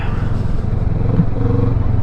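Kawasaki Vulcan 650 S cruiser, its tuned ER6N-derived engine, idles or pulls with a steady, loud low rumble close by, while a voice talks faintly underneath.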